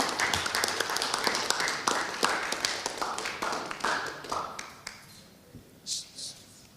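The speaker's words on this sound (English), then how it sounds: "Let's give him a round of applause." Applause for a panelist at a workshop panel session, a close burst of many hands clapping that fades out over several seconds, leaving a few scattered claps and taps.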